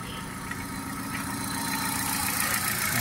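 A 2009 Hyundai i10 Magna petrol car idles with the bonnet open, a steady low mechanical hum and light ticking, heard close and even throughout with no one talking.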